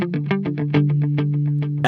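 An electric guitar runs through a dual-function delay TonePrint pedal with the level knob at maximum for a classic rock tone, playing a quick, steady run of chopped, rhythmic repeating notes, close and fairly loud.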